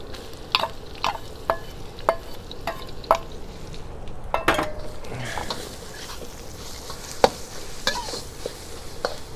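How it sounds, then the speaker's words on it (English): Young jackfruit stir-frying in a pan, with a steady sizzle and repeated sharp scrapes and clinks of a utensil stirring against the pan. "And you just want to stir it and cook it out."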